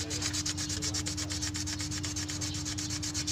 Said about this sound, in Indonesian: Ini yang baru saya gosok juga agar pelapis minyak ini terbuang ya.